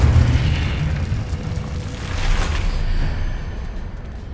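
A Confringo explosive spell in Hogwarts Legacy detonates with a loud, deep booming blast that rumbles and slowly fades, swelling again briefly in a second muffled burst.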